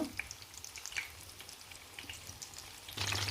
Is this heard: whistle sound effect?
no